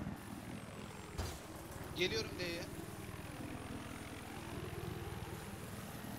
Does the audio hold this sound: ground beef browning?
no